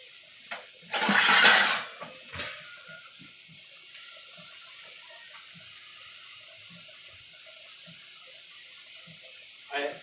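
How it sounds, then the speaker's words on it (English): Liquid is poured into a cooking pot holding a boiled-dinner stew with bay leaf and thyme: a brief rushing splash and pour near the start, then clinks of pot and utensils and soft kitchen handling sounds. "And then we'll add some liquid."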